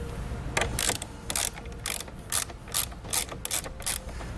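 A ratchet tightening a nut onto a car battery's positive post, a series of crisp clicking bursts in an uneven rhythm, close and clear with no talking.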